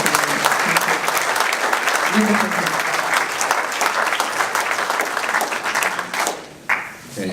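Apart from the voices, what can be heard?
audience applause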